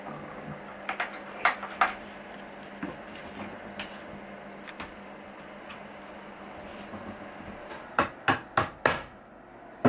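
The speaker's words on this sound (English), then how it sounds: "So it turns out we did need a hammer in the end." Hammer blows knock on wood while an IKEA baby cot is being assembled, a few scattered strikes early on, then a quick run of four sharp hits near the end over a quiet indoor room.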